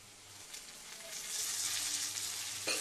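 Fresh mint hits hot oil in a pan while mutton biryani is being made, and a steady hiss builds into a louder, fuller sizzle that runs alone to the end.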